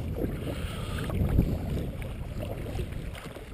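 A Sea Eagle FastTrack 385ft inflatable kayak is paddled into wind and tide, giving steady water swishing and splashing under continuous wind rumble, close and moderately loud with no talking.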